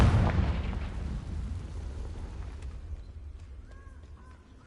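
A Confringo fire spell going off in the Hogwarts Legacy video game, heard as a loud explosive boom with a long rumbling tail that slowly fades, and a few faint chimes near the end.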